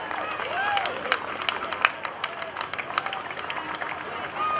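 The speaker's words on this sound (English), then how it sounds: "Let's have a big round of applause for the Union flag of Great Britain." Outdoor crowd at a naval air station airshow clapping and cheering, a steady spread of hand claps and scattered whoops with occasional louder bursts, with a thin whistle-like tone drifting through the background.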